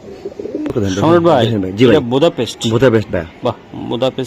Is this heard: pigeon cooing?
yes